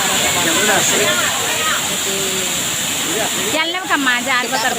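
A large waterfall in East Godavari roars in a loud, steady wash of falling water, with voices talking over it throughout.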